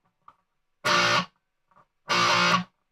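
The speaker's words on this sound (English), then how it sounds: "distortion." Two bursts of distorted electric guitar from an amp, each strummed chord ringing about half a second before cutting off, loud and close with silence between.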